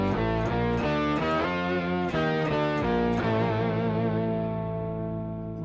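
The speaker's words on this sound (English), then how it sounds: "I have this synthesizer going on and I've got distortion going on" A synthesizer run through a distortion effect in the AUM mixer app on iOS plays a loud, buzzy, harmonically dense sequence of stepped notes, steady and unbroken, settling into a sustained distorted tone at the end.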